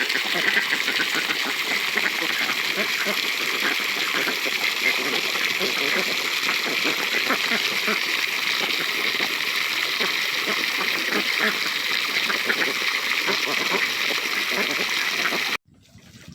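Ducks splash in a pool, continuous splashing and sloshing water filling the clip, steady and close, ending abruptly.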